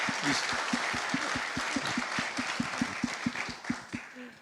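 Audience applause for the chairman of a Korean developers' association at a talk concert, a dense wash of clapping with a steady pulse of rhythmic claps, loud and close, slowly thinning out by the end.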